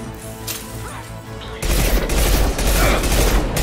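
Rapid gunfire and crashing impacts from the video game Mass Effect 2, loud and dense, with quieter combat noise at first and then a sustained burst of shots and smashing.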